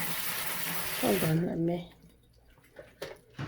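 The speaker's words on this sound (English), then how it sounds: "I'm just rinsing it with the cold water" Cold tap water splashes steadily over wild coral mushrooms for about a second, then cuts off. A voice follows, with a few faint knocks and drips afterward.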